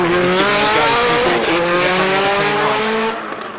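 A race car brakes hard into a roundabout on a Christchurch street circuit, its engine note dropping through downshifts with some tire noise, loud and close throughout before easing slightly at the end.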